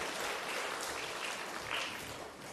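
Applause from a church congregation after a guitar-accompanied song, a dense, steady wash of clapping at moderate distance that stays even throughout and tapers slightly at the end.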